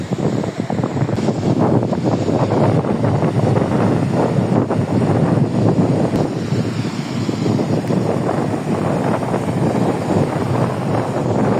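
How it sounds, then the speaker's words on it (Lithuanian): Strong, cold wind blowing steadily at the Latvian seaside, a loud continuous roar buffeting the microphone, with faint surf underneath and no talking. "Baisiausias didžiulis vėjas."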